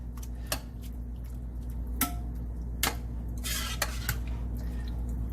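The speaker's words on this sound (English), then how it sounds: "And we're going to mix everybody around. Mix them around." A spoon stirs turkey chili ingredients with tomato sauce in a pot, giving a few scattered, crisp clinks and taps against the pot over a low steady hum.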